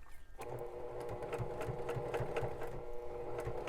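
A sewing machine runs in a short continuous burst of rapid rhythmic stitching while making a DIY water bottle holder, close and moderately quiet.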